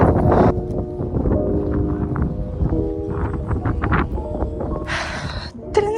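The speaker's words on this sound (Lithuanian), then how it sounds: "Vėjas nerealiai stiprus, nežinau ar mane girdit." Strong outdoor wind buffets the microphone in heavy low rumbling gusts at a hobby horse training session, with some clattering and brief higher bursts near the end.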